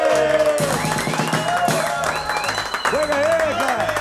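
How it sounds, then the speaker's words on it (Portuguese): A studio audience at a Brazilian comedy show claps and cheers steadily throughout, blended with music and voices talking over the crowd noise. "vamos receber com a salva de palmas, Adãozinho!"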